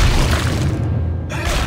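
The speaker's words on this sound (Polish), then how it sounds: "Ale mi wybuch." A loud, rumbling explosion from Dead Space 2 fills the clip with dense, sustained low-end roar and scattered debris-like crackle, its top briefly thinning before the blast noise surges again.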